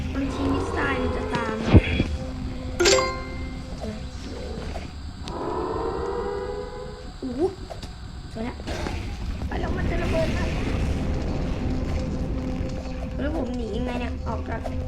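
Game explosions boom and rumble amid whooshing effects and a siren-like wail, with a voice talking over the action.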